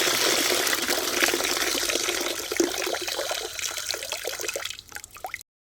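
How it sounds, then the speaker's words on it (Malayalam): Diluted kitchen-waste slurry pours and splashes at the base of a chili plant, a continuous liquid gush that thins into trickles and drips before stopping, close and alone. "ഞാനിത് ഒരു മുളകിൻ്റെ ചുവട്ടിലോട്ട് ഒഴിച്ചു കൊടുക്കുകയാണ്"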